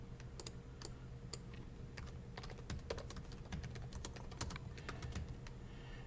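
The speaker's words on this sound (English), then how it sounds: "And so now I'm going to type it." Steady typing on a computer keyboard, a dense run of light key clicks close up with no talk over them.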